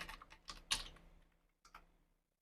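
Typing on a computer keyboard: a short run of quiet, close key clicks with one louder tap, a pause, then a couple of final taps before silence.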